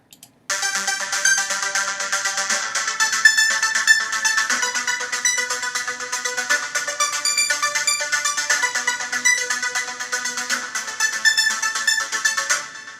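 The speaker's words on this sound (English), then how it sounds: "It's quite epic music, focus on trance music, dance music." Bright, dense electronic trance music with shimmering synth layers plays steadily and loudly for the whole stretch, with no voices.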